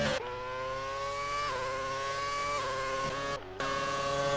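A racing car engine in the Grand Prix Legends video game revs high and steady with a buzzing whine, dipping briefly at gear shifts, sustained and close, with no talking.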